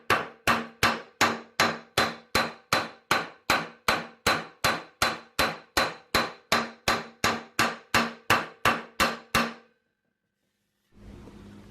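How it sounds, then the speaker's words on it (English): A panel hammer strikes MIG and TIG welds on car body metal about two dozen times in a steady, even rhythm, each blow ringing sharply, then stops briefly before a faint noise resumes. "the panel hammer's been unaffected by hitting those welds"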